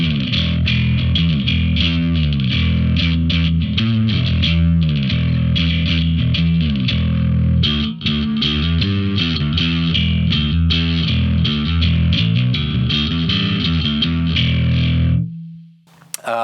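Bass guitar played through a Fractal effects unit with a djent-style drive tone: loud, distorted, tightly palm-muted chugging riffs with a clicky attack. A brief pause comes near the middle, and the playing cuts off at the end to a short sustained note.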